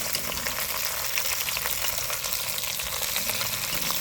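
Beef short ribs sear in a big pan with a steady, close, dense sizzle that never lets up and has no voices over it.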